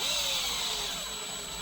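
A power drill runs continuously at a steady whine, driving a 28mm rod into a 3D printed track part for a TRX-4 model, loud and close with a slight drop in pitch as resistance builds; no speech.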